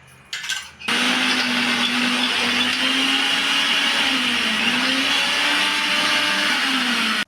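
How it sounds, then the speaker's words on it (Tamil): A mixer grinder grinds henna leaves with tamarind and curd: a short rattle at the start, then a loud, steady, close motor whine with a slightly wavering pitch that runs unbroken for several seconds before cutting off abruptly. "மருதாணியை அரைச்சி எடுத்துட்டு வந்தாச்சுங்க"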